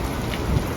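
Rain falling in Dammam, Saudi Arabia, a dense, steady hiss of drops on surfaces, loud and continuous with no voices.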